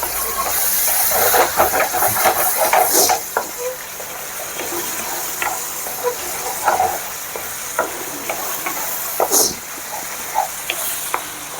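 Tomatoes fry in a pan for chutney, a continuous close sizzle and hiss with scattered stirring scrapes and clicks throughout.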